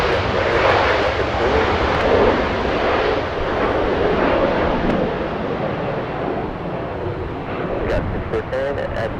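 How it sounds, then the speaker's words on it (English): A SkyWest Embraer E175 departing at Los Angeles International Airport makes a broad, rushing jet roar that slowly fades, with a commentator talking over it. "We have a departure SkyWest and Embraer E175 also."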